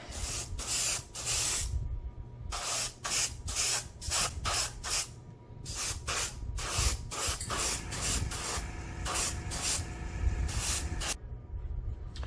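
An airbrush laying down the first coat on a Panzer III scale model hull, short hissing spray bursts in an irregular series, close and clear, separated by brief quiet gaps.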